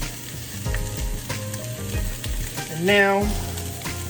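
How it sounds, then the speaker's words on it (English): Sausage sizzles and crackles steadily in a hot frying pan while breakfast burritos are made, with stirring scrapes and a brief spoken phrase over the frying. "Ooh, listen to that sizzle."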